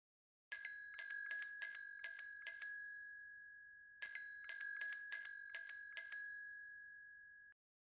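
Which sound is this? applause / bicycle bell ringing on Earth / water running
bicycle bell ringing on Earth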